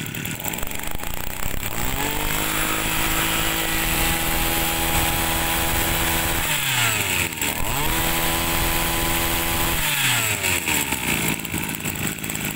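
A Tanaka G8 brush cutter of about 23cc runs loud and close, its two-stroke engine holding a steady buzzing drone that dips and revs back up twice, with no talking.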